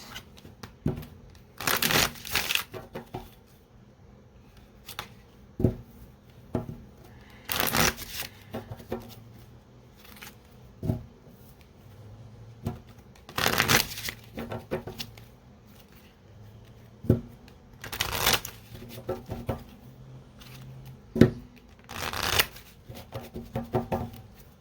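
Indigo Angel Oracle cards being shuffled by hand, close and crisp: repeated bursts of riffling and slapping cards at a loose rhythm, with quieter handling between them.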